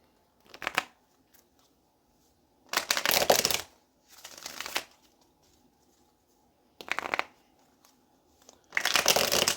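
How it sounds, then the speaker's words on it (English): Tarot cards are shuffled in several brisk, crisp bursts separated by short pauses, close by and with no speech. "let's get one more shuffle"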